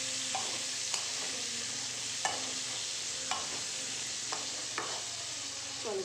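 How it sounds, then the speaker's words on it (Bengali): Radish, taro and pumpkin sizzle steadily in a frying pan as a spatula stirs them, adding soft scraping taps every second or so over a continuous close hiss. "এবার এটাকে একটু নরম হতে দেবো, নাড়িয়ে চাড়িয়ে নিচ্ছি একটুখানি।"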